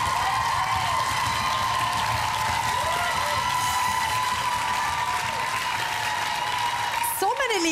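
An audience applauds for a child contestant at a kids' talent show final, dense steady clapping filling the room for several seconds before a sharp high tone and rising sound cut in at the end.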